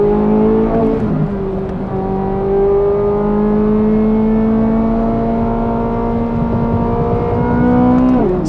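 A high-performance sports car accelerates hard, its engine roaring loud and close. The engine note climbs steadily in pitch, drops sharply at a gear change near the start, climbs again and shifts once more at the very end.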